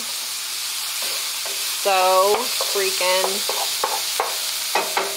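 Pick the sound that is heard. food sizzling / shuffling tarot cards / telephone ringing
food sizzling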